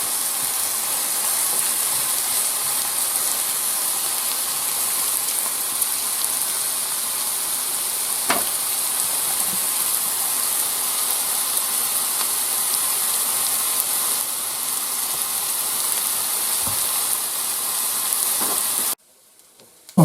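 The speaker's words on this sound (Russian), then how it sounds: "вот у нас лук жарится на сковороде" Steady sizzling of onions frying in a hot pan, a continuous bright crackle with a few soft clicks, cutting off abruptly near the end.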